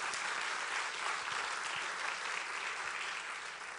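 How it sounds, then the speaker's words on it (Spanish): A church congregation applauds in a steady, dense wash of clapping that fills the hall without a break, loud and sustained throughout. "denle un aplauso al rey"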